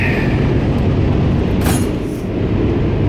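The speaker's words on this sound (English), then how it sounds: "We got a train going by" A train rolls past near a mechanic's shop, its loud, steady rumble and rattle filling the whole stretch with no pause.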